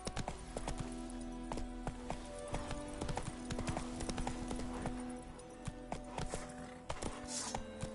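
Horse hooves clip-clop steadily along a road in The Witcher 3, a fairly close, continuous rhythmic trot with faint ambient game sounds behind.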